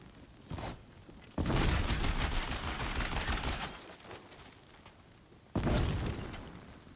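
Enemy gunfire in the video game Horizon Zero Dawn: a brief shot near the start, then a loud sustained burst of rattling fire lasting several seconds, fading, followed by another sharp loud volley that tapers off.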